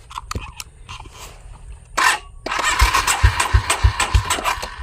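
A motorcycle engine is started and catches, with a burst of cranking followed by a steady rumbling idle and rhythmic throttle pulses, loud and close, after some scattered handling noises and knocks.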